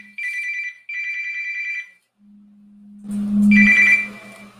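A telephone rings with two electronic warbling bursts. A person then talks close by, with some handling noise.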